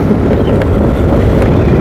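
Strong, steady wind roaring and buffeting the microphone at a cycling race, a loud continuous low rumble with no voices.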